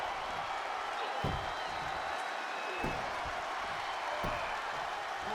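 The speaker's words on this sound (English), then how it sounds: "The sound of this crowd is deafening, and he's asking for more." Arena crowd noise from the WWE 2K22 wrestling game, a steady loud roar of cheering and applause filling the whole stretch, with a few sharper bursts of impact rising through it.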